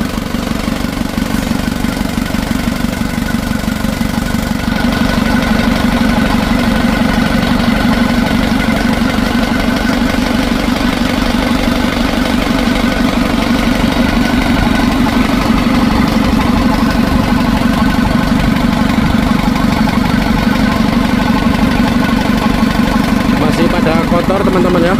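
A rebuilt Isuzu Traga engine idles steadily on a test run without a radiator, a loud, constant low rumble with an even mechanical chatter throughout.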